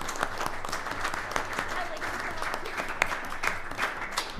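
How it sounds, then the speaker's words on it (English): Steady applause fills a township reorganization meeting, a dense continuous wash of many hands clapping at a moderate distance, with a few sharper claps poking out and no clear break in the sound. "Yes, clap. Yes, clap."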